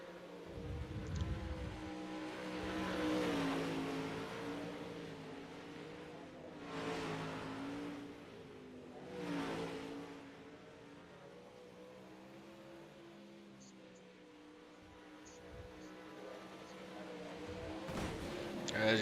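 Dirt track race cars roar through a 40-lap feature, engine harmonics rising and falling as cars pass in waves, with a steady crowd-like wash underneath and a brief loud burst near the end.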